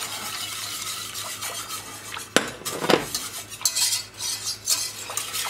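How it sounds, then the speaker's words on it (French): Beef tongue sauce being whisked with broth in a pot, a busy run of metallic scraping and clinking against the pan with one sharp knock partway through, close and fairly loud with no speech. "Donc on fouette bien pour bien tout délayer"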